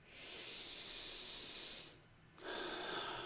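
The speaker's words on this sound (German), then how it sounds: "atme mal tief ein" A slow, deep inhalation during a guided meditation, a long steady airy hiss close to the ear that pauses briefly and then resumes, with no talking.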